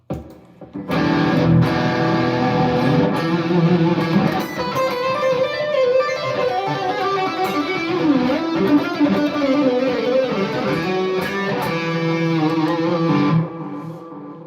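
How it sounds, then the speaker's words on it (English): Fender Jazzmaster electric guitar played through heavy distortion, a continuous loud wall of chords and sustained notes running for about twelve seconds before cutting off abruptly, with no talking. "Not a fan of the Jazz Master with distortion"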